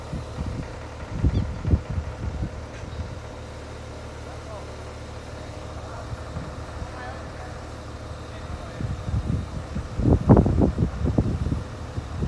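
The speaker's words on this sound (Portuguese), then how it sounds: "Tá ventando muito." Strong wind gusts buffet the microphone at a building site where a crane hoists a glass sheet about 10 metres up, giving low rumbling bursts that swell near the start and again toward the end over a steady background hum.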